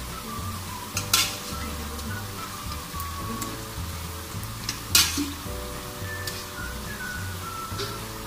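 Chicken pieces frying in about a cup of oil in a kadai, a steady close sizzle with low rhythmic stirring scrapes and a couple of sharper clatters, no voices.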